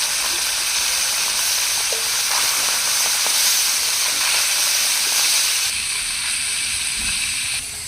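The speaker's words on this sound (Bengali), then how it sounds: "তারপর কড়ায় সর্ষের তেল দিয়ে মাছগুলোকে কড়া করে ভেজে নেব।" Fish fry hard in mustard oil in a wok, a loud, dense hiss and crackle that runs without pause for several seconds and eases slightly near the end.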